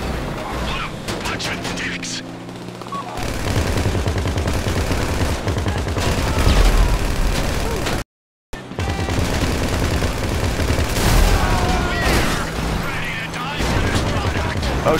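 A vehicle gunner blasts away in Grand Theft Auto V, with sustained loud gunfire and explosive booms running throughout, broken by a brief cut of silence, while players talk excitedly over it.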